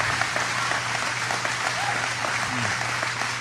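A crowd claps in sustained, dense applause that holds steady throughout, with faint voices murmuring underneath.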